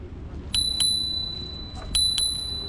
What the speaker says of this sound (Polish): Co jest w nim fajnego, ten dzwonek.